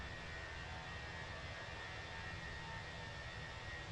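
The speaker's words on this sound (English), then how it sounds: "you like hearing those engines spool all the way up" Jet engines of a Fenix A320 in a flight simulator game hold a steady, faint, broadband roar with an even hum throughout, with no voices.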